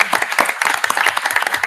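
Conference panel audience applauding, a dense patter of many hands clapping steadily throughout, close and fairly loud with no talk over it.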